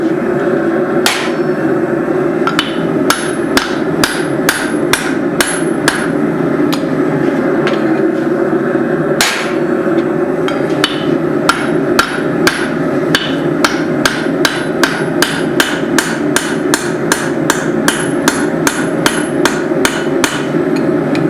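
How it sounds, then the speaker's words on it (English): Sharp, ringing hammer strikes forge a small hatchet head, the front folded back on itself. Blows come in quick, steady bursts, loud and close, with a few slower gaps. "I'm going to take and hammer this front back into itself"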